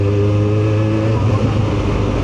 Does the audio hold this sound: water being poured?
no